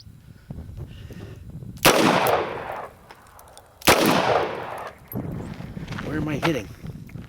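Two loud, sharp pistol shots, either a Taurus 82 revolver or a Tokarev, fired at an outdoor range about two seconds apart, each ringing out briefly, with someone talking between and after them.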